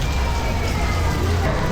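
Steady rain falls at Universal Studios Singapore, a dense continuous hiss of drops on the ground, loud and unbroken, with no other sound standing out.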